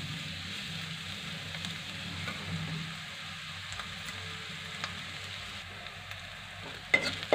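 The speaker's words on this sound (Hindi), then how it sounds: "इस तरीके से हमें लगभग दो तीन मिनट तक फ्राई करना है अच्छे से।" Carrot with red and green capsicum stir-frying for a veg manchurian, a steady close sizzle with scattered spatula scrapes and clicks, a sharper knock near the end.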